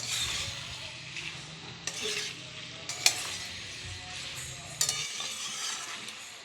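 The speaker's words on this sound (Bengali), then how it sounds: "ভাজা ডিমগুলোকে এর মধ্যে দিয়ে নাড়াচাড়া করে নেবে" Fried egg pieces are stirred into pasta in a hot pan, a soft sizzle under intermittent scraping and clinks of a spatula against metal, fairly quiet and close, with no voices.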